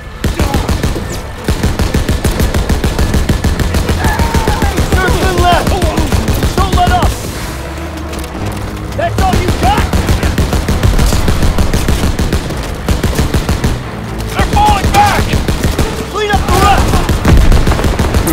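Gunfire from the Call of Duty WWII campaign, dense and continuous with sustained rapid bursts, a mix of music and battle noise throughout and brief lulls, loud and close.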